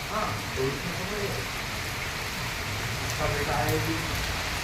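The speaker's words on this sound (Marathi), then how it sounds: "पाऊस चांगला कोसळतोय" Rain pours steadily with a broad, constant hiss, while someone speaks intermittently over it.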